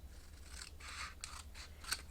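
Scissors cutting cardstock for coin envelopes, four or five quick crisp snips in close succession, near and quiet.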